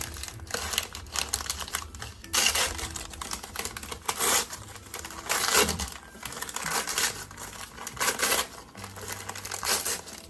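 Paper packaging of a mail-order houseplant parcel being torn and ripped open by hand, with close crinkling, tearing and crumpling bursts in an irregular rhythm, no talk.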